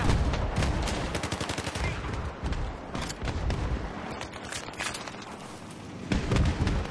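Battlefield 3 campaign combat, with dense bursts of gunfire and heavy booming blasts mixed into loud, continuous battle noise.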